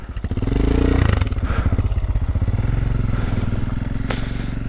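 A Harley-Davidson LiveWire electric motorcycle is ridden slowly over gravel, giving a close, steady rhythmic rumble and clatter of tyres and chassis noise with scraping crunches, fairly loud and without talk.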